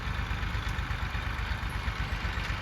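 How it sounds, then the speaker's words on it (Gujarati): A tractor engine idles steadily in a farm field, giving a continuous low, rumbling drone at close range with no pauses. "ટ્રેક્ટર આવી ગયું"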